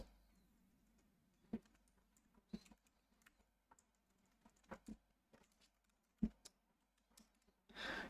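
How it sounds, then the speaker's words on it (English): Sparse keystrokes on a computer keyboard, typed one or two at a time with pauses between them, faint and close in an otherwise quiet room, ending in a brief louder rustle. "I can type correctly"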